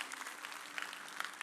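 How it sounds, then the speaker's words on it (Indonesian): A church congregation claps in praise, a brief, fairly quiet patter of many hands with a few sharper claps standing out, heard from a distance. "kasih tepuk tangan buat Tuhan kita."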